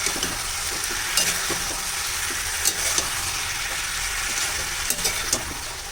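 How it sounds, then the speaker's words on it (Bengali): Ginger-cumin paste sizzling in a pan with other ingredients while being sautéed for a thin fish curry, a steady close frying hiss with occasional stirring scrapes and crackles throughout. "আদা ও জিরের সাথে সমস্ত উপকরণগুলো ভালো করে আমি কষিয়ে নেব"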